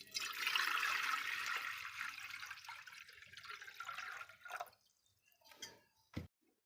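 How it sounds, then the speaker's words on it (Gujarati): Water pours steadily into a metal pressure cooker for a few seconds, then tapers off into trickles and a final clank. "અને પછી એમાં નાખવાનું છે પાણી"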